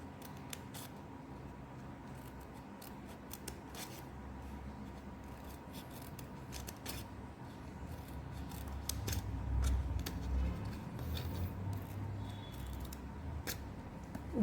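Scissors cut paper strips and circles for a paper bird craft, a steady run of soft, close snips and rustles over a quiet room background with no talk.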